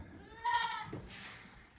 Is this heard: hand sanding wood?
no